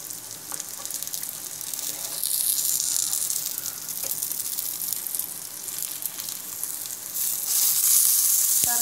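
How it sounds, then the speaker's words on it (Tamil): Rava-coated fish fries in hot oil, a steady, close, hissing sizzle that swells slightly toward the end, with no talking. "இப்போ ஒரு சைட் நல்லா ஃப்ரை ஆயிருக்கும்னு நினைக்கிறேன்."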